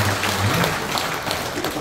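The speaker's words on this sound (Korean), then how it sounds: "네, 큰 박수로." Audience applause at a Korean civic members' rally as a provincial council member comes up to speak, a dense steady wash of clapping throughout with a low hum underneath.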